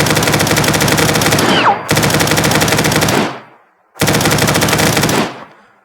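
Sustained bursts of automatic gunfire from a modern weapon in Fallout 4, three long loud strings of rapid shots separated by brief pauses, each burst trailing off into echo.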